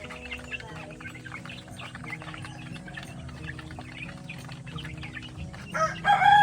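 Rhode Island chickens on a small poultry farm, repeated clucking and murmuring calls near and far, with a louder crow rising at the end.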